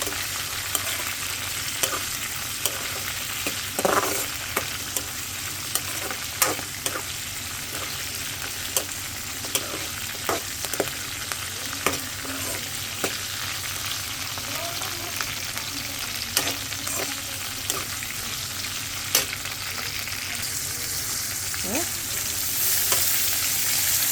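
Unpeeled garlic cloves fry in hot oil in a pan, a dense continuous sizzle up close, broken by frequent light scrapes and taps from stirring throughout.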